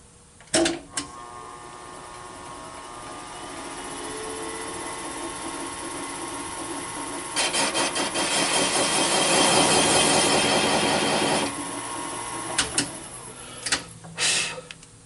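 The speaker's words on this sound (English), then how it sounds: "And now we're going to go ahead and cut the intake seats." Cutter machining the intake valve seats on a Honda CRF 450 cylinder head, sharp clicks at the start, then a steady grinding scrape that swells louder midway and fades, followed by several clacks and knocks.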